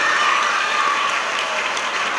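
Students at St Joseph's School applaud in a school ceremony, a dense sustained wash of clapping from a large crowd.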